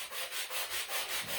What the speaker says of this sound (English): I'm going to take my sanding sponge